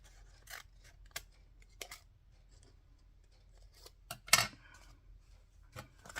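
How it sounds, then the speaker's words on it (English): Scissors snipping off the white edge of a fabric sample, a few quiet, sharp, separate cuts spread over several seconds against a near-silent background, the loudest snip near the end. "so let's cut that off"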